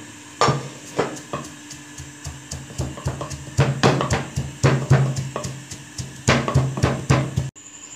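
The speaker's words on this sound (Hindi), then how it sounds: "प्याज जो हमने किया है इसको हम थोड़ा थोड़ा सा कूट लेंगे।" Onions being pounded by hand for a mutton handi, a series of sharp, close wooden knocks in irregular clusters, some quick and light, others heavier, with a faint metallic ring.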